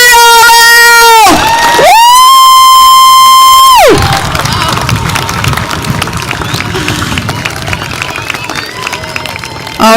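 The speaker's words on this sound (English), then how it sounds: "Class of 2025, parents, class, cheer yourselves on!" A graduating class and their parents cheer loudly at a school graduation ceremony, with a long blaring horn over the start before a sustained roar of shouts and whoops from a large crowd.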